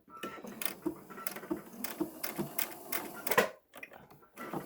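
Sewing machine stitching fabric for a pleated face mask, with the fabric edge lined up against the presser foot, running in short close bursts of rapid mechanical patter with brief pauses, loud and alone.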